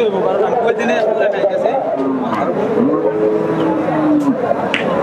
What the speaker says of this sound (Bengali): বন্ধুরা চমৎকার একটু গরু দেখতে পাচ্ছেন